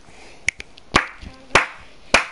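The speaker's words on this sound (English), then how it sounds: "we're doing slow clap" Slow, evenly spaced claps from a Fortnite dance emote, about five sharp hand claps spaced roughly half a second apart, loud and close over faint background noise, no talking.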